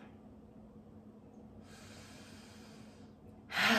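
Deep breathing during a gentle exercise and breathing session: a soft airy inhale drawn out for over a second, followed by a louder, sharper exhale at the end, with no speech.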